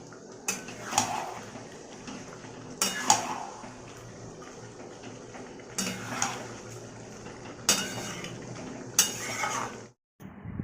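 Mutton being slowly stirred and fried with spices in a pan, with a few loud spaced scrapes and clatters of a utensil against the metal over a low background hiss, alone with no talk.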